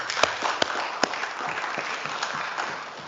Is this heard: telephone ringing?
no